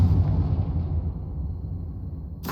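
A Confringo spell explosion in Hogwarts Legacy gives a single deep, booming burst at the start. It rumbles away over a couple of seconds, and a sharp new noise cuts in at the very end.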